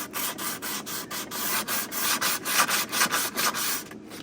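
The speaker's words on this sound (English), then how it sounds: "what roughing it up is going to do is just give us some more little lines in here that the glue can adhere into" Abrasive rubbing on a wooden Airstream cabinet drawer surface, roughed up before gluing with Gorilla epoxy: steady back-and-forth scraping strokes about every third of a second, close and fairly loud, with no talk.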